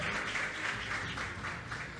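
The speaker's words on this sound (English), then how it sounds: "Big round of applause one more time for the #1 FBOs in the forever world." Faint, steady applause from a summit audience rolls on without a break, soft and distant in the room, with no voices rising above it.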